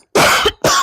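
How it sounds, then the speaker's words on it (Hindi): Two sharp, harsh coughs from a man close to the microphone, the second following quickly after a short breath. "थोड़ा खांसी हो गया"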